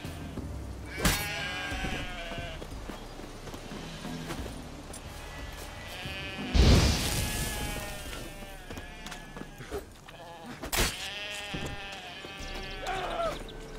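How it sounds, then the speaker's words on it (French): Sheep in The Witcher 3 bleat repeatedly in wavering cries spaced several seconds apart, mixed with soft game ambience and a brief louder burst midway. "Les moutons repopent à l'infini,"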